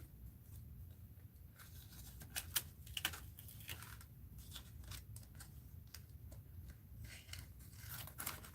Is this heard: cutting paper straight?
yes